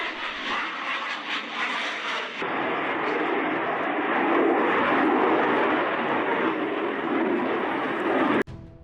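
A MiG-29 jet with two RD-33 engines roaring as the throttle goes forward on the runway, a loud broad sustained roar that swells after a brief quieter start and cuts off near the end.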